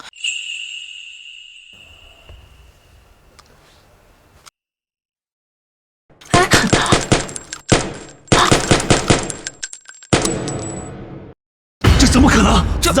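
In a dramatic scene, guns fire at a man in loud, rapid bursts, with several machine-gun-like volleys separated by brief silences after a quieter opening.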